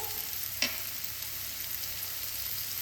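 Ground spices going into chopped spring onions frying in a pan, a soft, steady sizzle with a single brief clink of a spoon early on.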